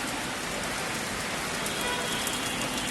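Heavy rain pours down in a steady, even broadband wash after a hot spell, continuous and fairly close throughout the short stretch.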